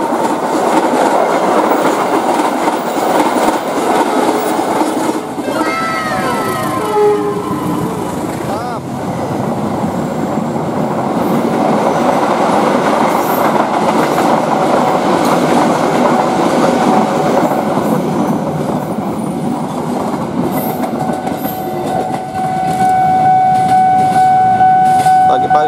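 A container freight train rumbles past close by at a station near Jakarta, with steady clattering wheels over rail joints, loud and continuous throughout, with faint voices underneath.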